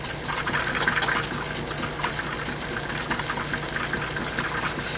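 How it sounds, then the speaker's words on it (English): Steady back-and-forth rubbing as the edge of a vegetable-tanned leather piece is buffed by hand with moderate pressure, a continuous close scuffing texture with slight rhythmic swells. "Just start buffing that thing back and forth."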